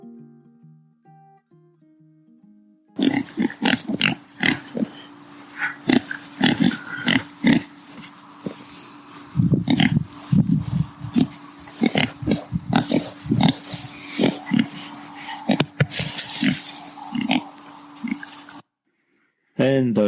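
Pigs on the Highclere regenerative smallholding farm grunt and snort repeatedly, close and loud, in irregular bursts over a low steady hum, after a brief quiet musical opening.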